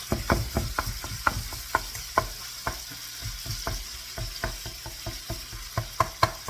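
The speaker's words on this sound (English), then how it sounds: "I'm going back and stirring my meat here for a little bit. Getting it nice and browned." Ground meat sizzles as it browns in a hot pan while a utensil scrapes and taps against it in a steady, irregular rhythm of stirring, close and fairly loud.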